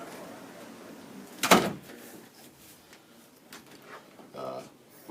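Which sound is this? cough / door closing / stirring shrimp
door closing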